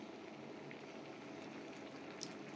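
Vegetable curry simmers in its spice water in a covered pot, giving off a faint, steady bubbling that carries on evenly with no voices.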